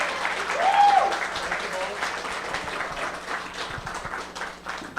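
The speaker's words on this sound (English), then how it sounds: "Huge round of applause to McKenna and Sasha." An audience applauds at an evening climate-themed event, a broad wash of clapping that stays steady across the whole stretch and slowly thins toward the end.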